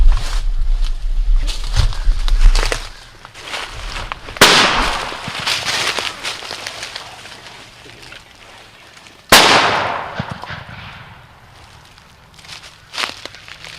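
Gunshots during a turkey hunt outdoors, two sharp, loud cracks several seconds apart that ring out and decay, amid rustling and footstep-like shuffling in the leaves.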